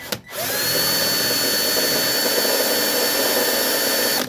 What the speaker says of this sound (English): first you want to start with a 1/16 drill bit and then go to a 1/8 drill bit